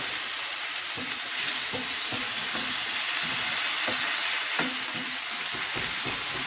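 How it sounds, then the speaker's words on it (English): Diced beef sizzling in a pan over very high heat for a beef coconut roast, a loud continuous frying hiss broken by regular stirring scrapes and clacks, with no talking. "I'm putting it in a high heat, and you can see that my beef is getting cooked very nicely"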